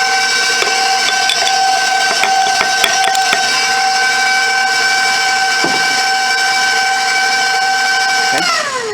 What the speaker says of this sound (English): I'm going to stop the mixer, make sure to scrape down the sides of the bowl.